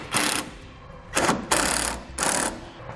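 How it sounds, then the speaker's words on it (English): A power driver sinks self-tapping screws into a trailer wiring connector base plate on a 2014 Jeep, in four short whirring bursts separated by brief pauses, close and fairly loud. "Now we'll mount our connector to our base plate using the self-tapping screws"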